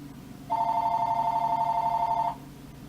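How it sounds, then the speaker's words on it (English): A telephone gives a single steady electronic ring, loud and close, lasting nearly two seconds before it cuts off against a quiet indoor background. "And there goes the phone."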